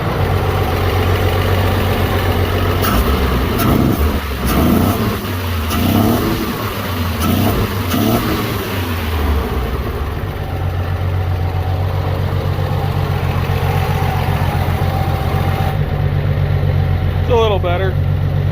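Carbureted engine of a 1952 Chevrolet 6400 truck running and settling to a rough idle, a loud, close, continuous rumble with a few revs in the middle, while people talk over it.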